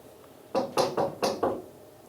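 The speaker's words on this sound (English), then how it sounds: "Can Steve knock on the door?" Five sharp knocks on a door in quick, slightly uneven succession, fairly close and loud against a quiet room.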